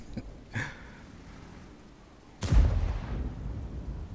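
Tank gunfire in a World of Tanks replay, a soft distant pop followed a couple of seconds later by a heavy, close cannon boom that rumbles and fades over a low engine hum.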